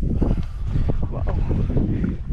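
Heavy wind buffeting a microphone outdoors on a muddy trekking path, a constant low rumble and roar throughout with no clear voices.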